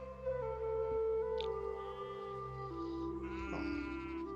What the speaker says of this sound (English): I heard sheep